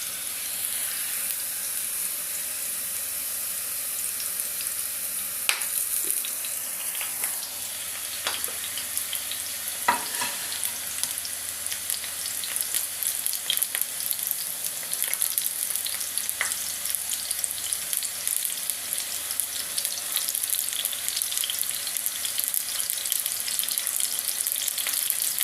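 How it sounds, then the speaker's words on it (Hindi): Okra being lightly fried in a hot pan for a Pakistani-style okra and meat dish, giving a steady hiss and crackle with occasional sharp pops and stirring clatter, close and continuous with no voices. "भिंडियों को जो है हल्का हल्का फ्राई करूँगी"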